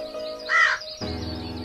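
A crow in an animated children's lesson about birds gives a single harsh caw, brief and prominent, before a held musical chord takes over.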